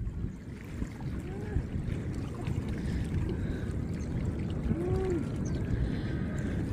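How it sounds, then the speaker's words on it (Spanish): High, rough sea waves make a continuous low churning roar with wash and splashing. The surf sound is loud and steady, and a faint voice comes through underneath it. "está un oleaje bien alto, bien bravo"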